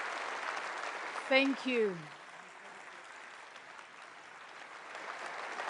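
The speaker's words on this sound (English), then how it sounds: "a very big round of applause for the President of Ukraine, Volodymyr Zelenskyy" A NATO summit audience in Turkey applauds Ukrainian President Volodymyr Zelenskyy, a broad, even wash of clapping from a large hall, with someone briefly speaking over it early on.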